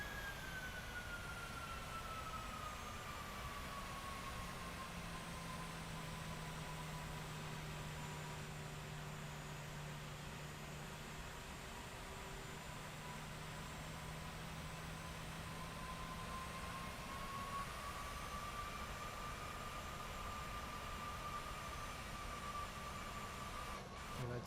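Steady, continuous engine drone of a PMDG 737 airliner in Microsoft Flight Simulator 2024, with a long whine that slowly falls and then rises again, heard alone without talk.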